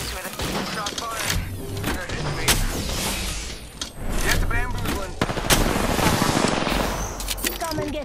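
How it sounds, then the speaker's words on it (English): Rapid bursts of automatic gunfire and heavy weapon shots in the Apex Legends video game, loud and dense throughout, layered with thuds and mechanical clatter. "Shot fired."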